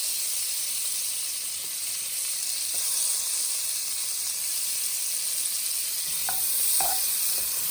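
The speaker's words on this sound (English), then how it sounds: "we are going to saute the onions and the garlic." Onions and garlic sauté in a pan for baked beans, giving a steady, even sizzle and hiss with a few faint clinks near the end, heard alone without talk.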